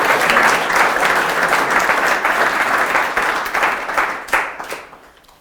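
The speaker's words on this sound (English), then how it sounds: "we'll do a round of applause first" A live audience at a startup speaking event gives a sustained round of applause, dense and loud at first, then thinning toward the end as the clapping fades out.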